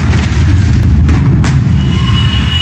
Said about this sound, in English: A colossal explosion ripped through the evening air,